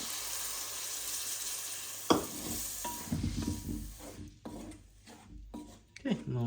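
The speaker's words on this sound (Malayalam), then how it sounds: "ഈ പുളി വെള്ളം ഒഴിച്ചു കൊടുക്കും." Tamarind water splashed into a sizzling pan of salmon head curry, a sudden pour followed by bubbling, frying crackle and scraping stirring strokes, close and moderately loud.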